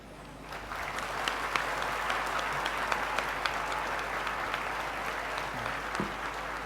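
An audience clapping together at a spiritual gathering, a dense, even wash of applause with a few sharper individual claps, sustained steadily throughout with no voices on top.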